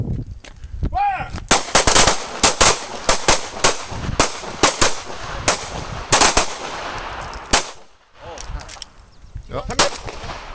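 Repeated pistol shots during a combat shooting drill on an outdoor range, loud sharp cracks fired in a quick irregular string across the whole stretch, several spaced single reports, with a brief lull near the end.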